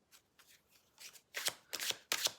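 Close, quiet shuffling of tarot cards, with soft riffles at first that swell into three louder crisp bursts near the end, and no voices.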